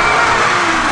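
A Lada Niva engine revs hard and steadily while driving through mud on mud-terrain tyres, a loud, close, continuous mid-pitched drone with no pauses.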